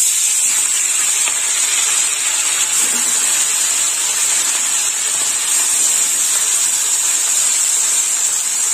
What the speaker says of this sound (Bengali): তেল গরম হয়ে গেছে, এবার মাছ দিয়ে দেবো। দিয়ে দিলাম মাছ।